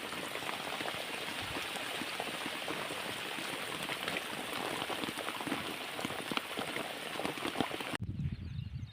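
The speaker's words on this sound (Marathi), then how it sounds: "आता पाऊस चालू झालेला आहे" Steady rain patters densely on a surface for most of the clip, then cuts off abruptly near the end, leaving a quieter low rumble.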